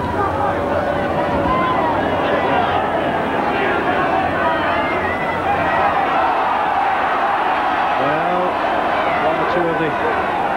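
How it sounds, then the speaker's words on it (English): A rugby league crowd at a Bradford versus Hull match in 1986 keeps up a continuous restless murmur and rumble, heard beneath a commentator's voice. "Bradford section of the crowd beginning to get a little bit impatient with the side."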